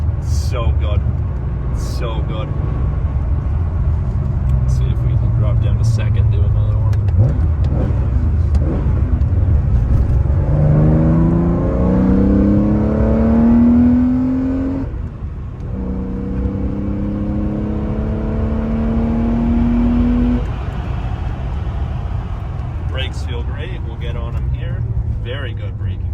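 An air-cooled 1977 Porsche 911S Targa drives under a steady engine roar, its pitch climbing through two rising revving pulls with a dip between them as it drops down toward second gear, while a voice talks over the drive.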